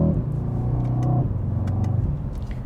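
A Mercedes-Benz E63S AMG with a Brabus kit rumbles loudly from inside the car as its engine pitch steps down through quick gear shifts, a steady deep drone throughout.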